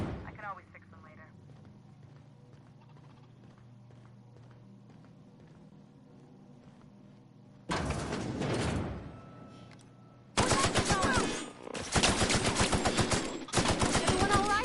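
Gunfire against mechanical enemies in the game The Outer Worlds: after a quiet stretch with speech, loud bursts of rapid automatic fire break out, first one burst, then several long, dense bursts.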